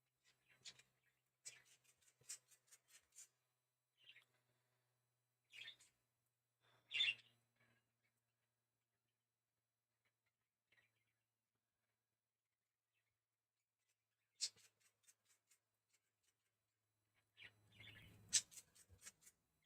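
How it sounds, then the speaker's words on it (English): Two parakeets chirp and squawk in short scattered bursts, moderately near, with long quiet gaps between calls and no talking. "They're two parakeets."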